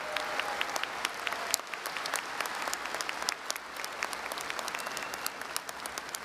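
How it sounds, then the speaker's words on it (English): Commencement audience at a university ceremony applauding staff, a sustained spread of many hands clapping at moderate distance, fairly soft and even, with occasional sharper individual claps over six seconds. "Let's give them a big round of applause for all the work they do."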